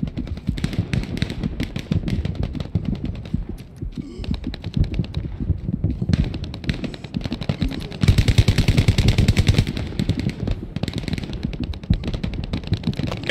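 Close, loud video game gunfire around a bunker and factory area, dense rapid automatic bursts continuing almost without pause, with brief lulls and a heavier stretch of shots near the end.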